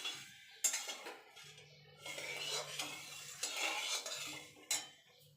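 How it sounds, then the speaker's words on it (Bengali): Sugar syrup stirred in a pot over a gas flame for nikuti sweets, with repeated scraping and clinking of a spoon against the metal, a few sharper knocks and a soft low hum underneath, close and fairly quiet. "যতক্ষণ ফুটে না যাচ্ছে চিনিটা নাড়তে হবে,"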